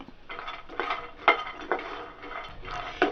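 Peanuts, cashews and dried coconut dry roasting in a pan, with repeated scraping and clinking of a metal spoon against the pan in irregular strokes, fairly close and moderately loud, with no talk.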